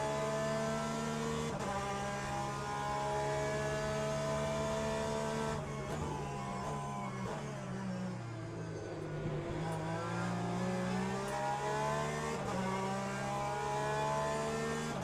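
A Ferrari race car engine in the sim racing game Le Mans Ultimate roars steadily and loud throughout, holding high revs with brief dips and pitch shifts like gear changes, with no voices over it.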